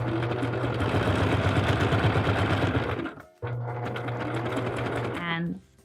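A sewing machine runs a stitch across fabric to close a seam on a Star Wars basket, a close, rapid motor whir in two runs, the second ending in a brief slowing whine.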